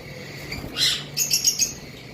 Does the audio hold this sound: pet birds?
yes